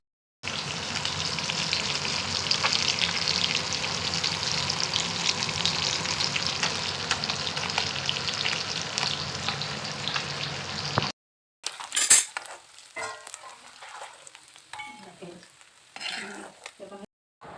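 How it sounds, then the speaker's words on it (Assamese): Panch phoron spices fry in leftover fish-frying oil with a steady, loud sizzle and crackle for about eleven seconds, then it breaks off into quieter clinks and stirring. "মাছ ফ্ৰাই কৰা তেলতে দি দিলোঁ কেইটামান পাঁচফোৰণ"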